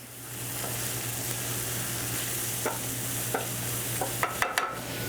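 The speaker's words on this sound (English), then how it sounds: "I'm ready to add the 4 cloves of minced garlic." Four cloves of minced garlic sizzle in a pot for butternut squash soup, a steady soft frying hiss broken by a few scraping stirs and taps toward the end.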